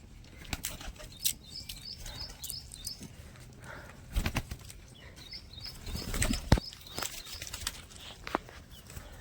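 High flyer pigeon chicks shuffle and flap with soft wing bursts and faint chirps, close by and quiet, with scattered knocks and no talking.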